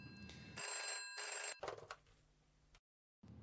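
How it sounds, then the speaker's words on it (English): A telephone rings in two loud, close bursts of bright trilling bell tone, then falls silent for a moment before a third ring starts. "Wait a minute, I hear a phone call."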